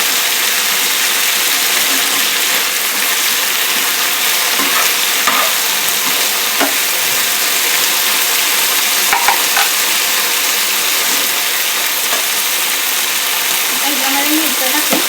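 Drumstick leaves sizzle and crackle steadily in a hot pan as they are stir-fried, a dense, even frying noise that continues throughout.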